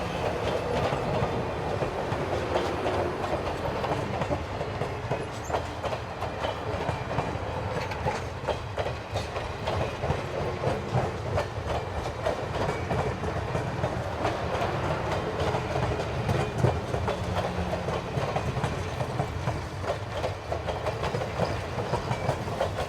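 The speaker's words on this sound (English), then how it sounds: "We will finish our show with one final run-by of number 4960, doing track speed as it cleared Red Lake" Grand Canyon Railway locomotive number 4960 runs by at track speed near Red Lake, a steady loud roar of rolling cars with continuous clickety-clack of wheels over rail joints throughout, no voices.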